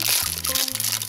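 Plastic wrapper of a LOL Surprise doll packet crinkles and crunches as it is torn open, a close, continuous rustle with low hum beneath.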